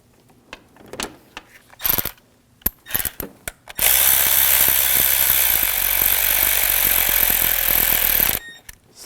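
Ratchet wrench tightening the ignition coil bolt on a 2001-2009 Volvo S60 engine, close and loud, with bursts of separate clicks followed by a long, fast continuous ratcheting run.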